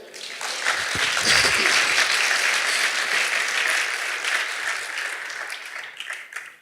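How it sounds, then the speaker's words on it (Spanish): A church congregation breaks into sustained applause, many hands clapping in a dense, loud wash that swells quickly and slowly fades toward the end. "¿Le da un aplauso a la generación de oro?"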